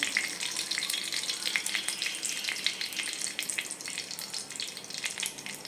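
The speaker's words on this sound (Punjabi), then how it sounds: "ਹੁਣ ਅਸੀਂ ਤੜਕਾ ਦਹੀਂ ਚ ਪਾ ਦਾਂਗੇ" Hot tempering of spices poured into yogurt for masala idli, giving a steady, close sizzle with bubbling crackle throughout, no voices.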